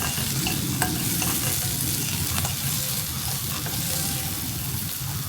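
Steady oily sizzle of capsicum, tomato and onion frying in a wok, with occasional stirring clicks and scrapes, close and continuous throughout.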